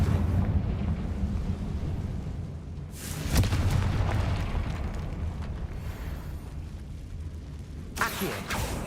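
Confringo fire spell explosions in the Hogwarts Legacy video game, cast during a fight with spiders. Two loud, sharp blasts land a few seconds apart over a constant low game rumble.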